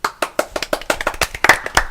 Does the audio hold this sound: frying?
no